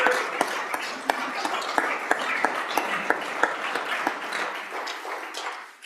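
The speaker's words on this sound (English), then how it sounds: "Let's all give Mark a big warm round of applause." Warm applause in a state Senate chamber during a floor session, a steady spread of clapping with a few sharp individual claps standing out, fading out at the close.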